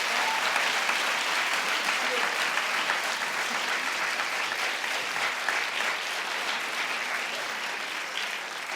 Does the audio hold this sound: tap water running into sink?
no